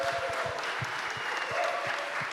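Audience applause at an Ordinals conference panel in Lisbon, a dense round of clapping close and steady for a couple of seconds with faint crowd noise.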